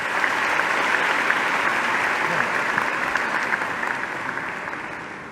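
An audience at an International Women's Day event in Mauritius applauds a minister after her speech, a sustained wash of many hands clapping that fades slightly toward the end.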